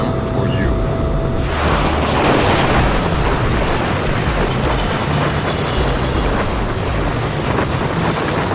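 A train ride in the video game Splinter Cell Pandora Tomorrow, heard as a loud, continuous rushing roar like wind and rolling rail noise that swells after a quieter start and holds steady throughout.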